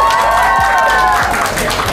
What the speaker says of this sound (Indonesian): Tepuk tangan. Tepuk tangan ini ya.